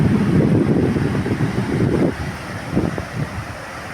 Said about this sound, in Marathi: इथल्या लाटा जरा जोरात फुटताना दिसतात